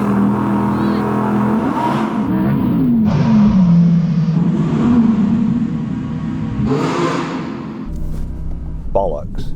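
Audi R8 sports cars, rear-wheel drive against all-wheel drive, rev and accelerate hard in a drag race on snow, engines droning loud and rising in pitch as they shift gears, with voices talking over the noise.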